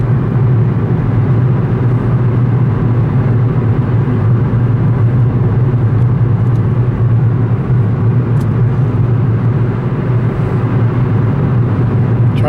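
Steady low road drone from a car driving on rough roads, a continuous loud rumble of tyres and engine that stays constant for the whole stretch with no breaks.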